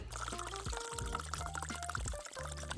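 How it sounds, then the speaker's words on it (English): Water poured into a container to make a brine for pork loin, a steady close splashing fill with some clinks and rattles, no talking. "bring in our container and add our water"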